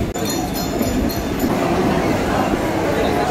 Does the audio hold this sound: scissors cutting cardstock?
no